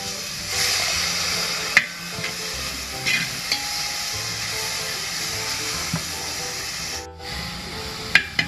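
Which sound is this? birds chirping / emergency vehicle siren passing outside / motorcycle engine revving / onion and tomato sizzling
onion and tomato sizzling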